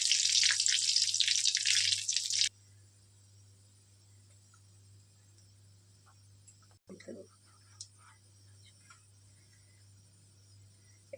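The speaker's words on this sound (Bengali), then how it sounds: "এতে 2টো তেজপাতা আর 1টা শুকনো লঙ্কার ফোড়ন, আর 1 চামচ পরিমাণ গোটা জিরে" Bay leaves, a dried chili and whole cumin hit hot oil with melting sugar for a butter chicken masala, giving a loud, hissing sizzle for about two seconds. It then drops to near quiet with a low hum, faint clicks and brief speech.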